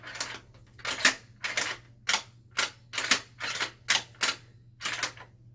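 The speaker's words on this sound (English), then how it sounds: "first we're just going to run the bolt" The bolt of a Ruger Precision rifle is cycled over and over, about ten sharp, close metallic clacks in an uneven rhythm, with quiet gaps between them.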